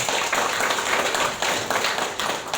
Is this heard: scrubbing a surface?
no